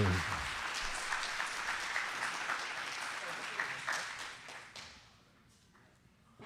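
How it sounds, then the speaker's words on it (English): Audience applause at an anti-Trump debate tour event in Seattle, a dense sustained clapping from a crowd that holds steady and then thins and fades out toward the end. "Give him a round of applause."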